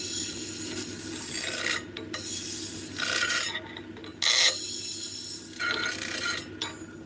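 A knife-sharpening rod rasps against the blade inside a leather splitter to remove the burr, in repeated scraping strokes of about a second each with short pauses between them.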